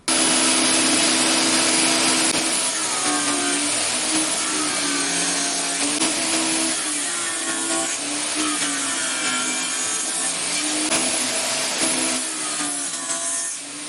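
A Bosch GTS1031 table saw with a dado blade cuts through wood in one sustained, loud, steady whine and grind, staying close and continuous with slight variations in pitch.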